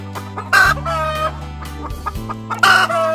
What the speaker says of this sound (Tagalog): Ba't pumuputak? Sino pumuputak?